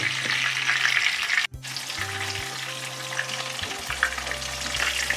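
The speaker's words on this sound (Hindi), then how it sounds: "इसी पैन में मैं फ़िश को फ्राई करूँगी पहले" Fish pieces fry in hot oil in a pan, making a dense, even sizzle close up, with a brief dropout and a faint low hum underneath, without speech.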